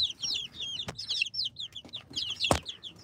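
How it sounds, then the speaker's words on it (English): Little chicks in a coop give a flurry of soft, close peeps and clucks, with a couple of sharp knocks mixed in. "down here, we got our little chickies"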